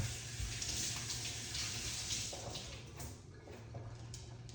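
Detox juice is poured out in a continuous, moderately soft gushing stream of liquid, steady throughout with a slight easing near the end, no voices.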